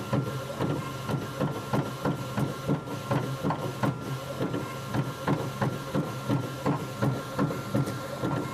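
A Primera Bravo 4200 disc autoprinter printing onto a disc, giving a steady mechanical whir with a fast, regular clicking and ticking rhythm from the moving print carriage, close and continuous throughout.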